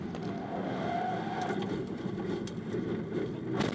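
Onboard a Ferrari Challenge race car at Imola, a steady, dense engine drone roars continuously throughout at close range, with no voices.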